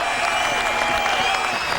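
Sustained applause from the Open Championship golf crowd at Turnberry in 2009, a dense, even wash of clapping from a large gathering throughout, with a few voices mixed in.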